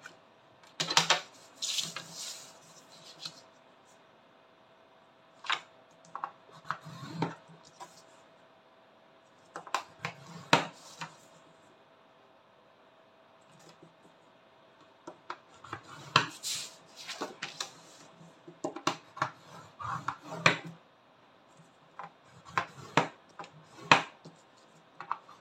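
Paper for a vintage 12x17 cm scrapbooking mini-album is folded by hand, giving scattered soft creases, taps and rustles in irregular bursts. The sounds are close and faint, with no talking.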